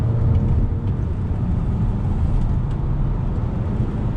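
A 2019 Toyota Camry V6 sedan hustled through twisty roads, giving a steady, loud engine and road drone with tyre and wind noise and no talking.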